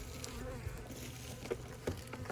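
Honeybees humming around an open hive box during an outdoor hive inspection, a steady nearby drone with individual bees buzzing past, plus faint handling clicks.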